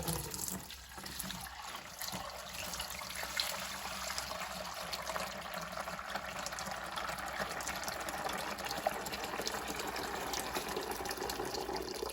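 Melted beeswax is poured and strained through a filter in a steady, even liquid trickle lasting several seconds, heard up close with no talking.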